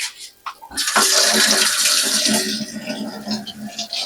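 Tap water runs in a kitchen sink as hands are rinsed, a steady splashing gush that starts after a few small knocks and carries on near and loud to the end, without speech.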